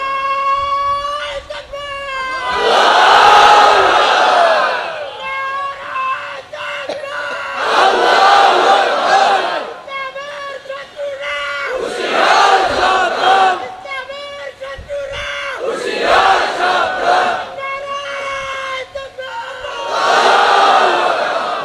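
A large crowd at an Islamic religious sermon gathering chants a slogan in unison, loud roaring bursts repeating about every five seconds with short quieter gaps between them.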